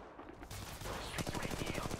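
Gunfire from an R-301 assault rifle in Apex Legends Mobile, a rapid, even burst of automatic shots that starts after a rumbling lead-in and continues loud and close to the end.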